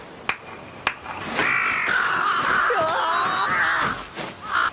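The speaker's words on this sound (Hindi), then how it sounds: "अब से आप सबके साथ एक कासुगाई कौवा रहे।" A crow caws in a Hindi-dubbed Demon Slayer anime episode, a long harsh drawn-out call lasting a few seconds after two sharp knocks, loud and close with no talk.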